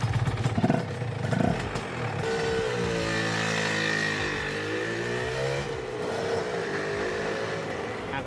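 A Honda NSR 150 SP motorcycle engine revs and pulls away, its buzzy two-stroke note rising and falling in pitch as the bike accelerates close by.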